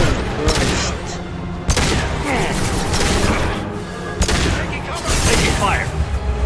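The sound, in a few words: gunfire in the video game Mass Effect 2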